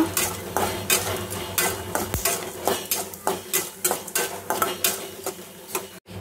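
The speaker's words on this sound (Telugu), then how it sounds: "ఇవి ఫ్రై అయిన తర్వాత ఇందులోకి ధనియాలు, జీలకర్ర యాడ్ చేసుకొని ఫ్రై చేసుకోవాలా" Eggplant frying in a pan with coriander seeds and cumin, a spoon scraping and clattering against the pan in a quick, regular stirring rhythm over a soft sizzle, loud and close.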